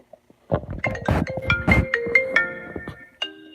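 A smartphone ringtone plays a bright, chiming melody of rising and falling tones, close and clear, opening with a few soft taps before the tune starts and ending on a sustained chord.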